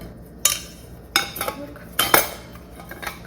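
Large metal spoons and cutlery clink and rattle in three or four short bursts, knocking together close by, with quiet pauses between.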